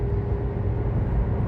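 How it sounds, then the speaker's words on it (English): A steady low rumble of a car driving fills the short stretch, a continuous engine and road drone heard from inside the vehicle, with no talk over it. "because of the sound of the car"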